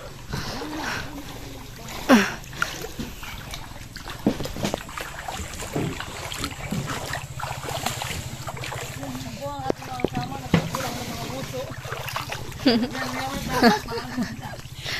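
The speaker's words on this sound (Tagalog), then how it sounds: "Kami po yung sasakay sa bangka." A small wooden boat (bangka) moves through water at Tamala with splashing and sloshing, under steady wind rumble on the microphone, while people talk and call out nearby.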